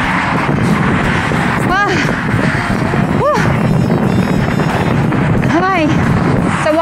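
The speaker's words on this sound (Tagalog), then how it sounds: "Ang hangin po." Heavy wind buffets the microphone throughout an outdoor ride, a constant loud rumbling roar, with brief shouting voices breaking through over it.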